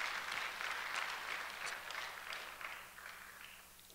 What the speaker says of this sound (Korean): 다시 한번 박수 한번 보내주시기 바랍니다.